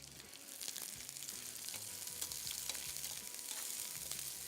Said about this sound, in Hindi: इसको हल्का सा मैं फ्राई कर रहा हूँ ड्यू ड्रॉप के ऑलिव पॉमेस ऑयल में